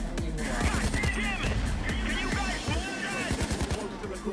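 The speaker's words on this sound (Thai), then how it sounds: "ยิงอยู่ข้างหลังน้องนิเต็มไปหมดเลย" Rapid bursts of automatic gunfire in Payday 2 crackle loudly and nearly nonstop, clustered shots overlapping with a chaotic firefight texture, with a voice talking over the shooting.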